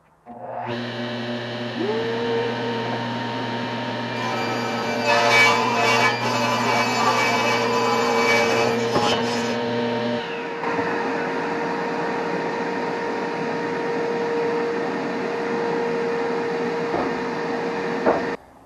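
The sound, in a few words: table saw cutting cedar board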